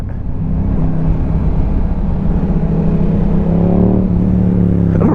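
A Yamaha R7 motorcycle engine revs hard and steadily during a wheelie, a loud, close drone that climbs in pitch toward the end.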